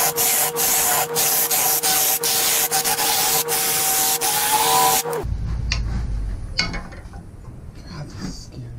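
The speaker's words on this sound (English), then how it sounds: "Out with a Forstner bit." A Forstner bit bores into a wooden bowl on a wood lathe, a loud, continuous close-up rasping whir with steady rhythmic ticks that stops abruptly partway through, leaving quieter handling noise.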